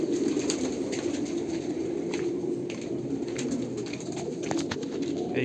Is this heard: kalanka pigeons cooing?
yes